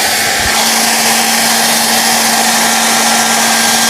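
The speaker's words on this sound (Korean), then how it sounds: "하나는 드라이기를 켜볼 거고요" A hair dryer runs continuously, close and loud, making a steady broadband whoosh with a constant motor hum underneath. A brief knock sounds near the start, and nobody speaks.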